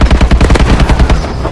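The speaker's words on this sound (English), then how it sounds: "Friendly assault drone in action." Rapid automatic gunfire from an assault drone in Call of Duty: Advanced Warfare rattles in a loud, continuous burst of evenly spaced shots, close and punchy, with no voices.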